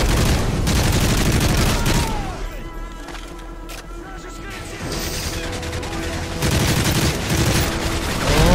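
Dense gunfire in Call of Duty: Modern Warfare 3, loud rapid bursts and heavy crashes, briefly easing in the middle before intensifying again, with overlapping explosive booms.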